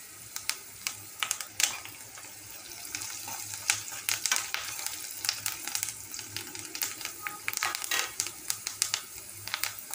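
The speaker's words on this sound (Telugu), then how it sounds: "తెల్లగడ్డలు చిరిమేసుకున్న తెల్లగడ్డలు వేసుకోవాలి ఫ్రెండ్స్ స్మెల్ కోసము" Crushed garlic fries in a pan for a ponnaganti leaf egg fry, giving a steady crackling sizzle with scattered sharp pops and spatters, fairly close and moderate in level.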